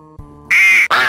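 Two loud, close duck quacks from a soundboard in a Garry's Mod DarkRP session, a short buzzy call followed by a second after a brief gap, over a faint background tone.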